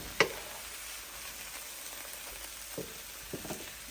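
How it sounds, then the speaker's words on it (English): Onions fry in a pan for a one-pan sausage and gnocchi dinner, giving a faint, steady sizzle with a sharp clatter near the start and a few soft knocks and stirring touches later on. "now it's time to just kind of fry all of this up"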